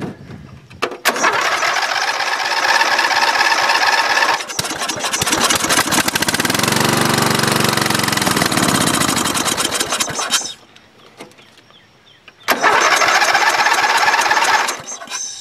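A Dynamark engine with a suspected carburetor problem, running on fresh gas, cranks and starts. It runs loud and close for several seconds, cuts back to a faint lull, then roars up again.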